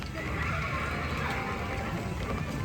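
A horse ride at an amusement park plays a loud recorded neigh over steady ride noise, with faint background clatter.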